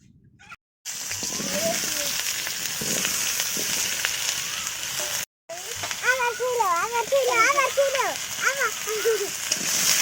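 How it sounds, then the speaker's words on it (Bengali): Oil heating in a pan for frying pointed gourd during village-style home cooking gives a steady broadband sizzle that runs throughout. The sizzle breaks off twice very briefly, and birds chirp nearby in the second half. "পটলটা ভাজার জন্য তেল দিয়ে দিচ্ছে"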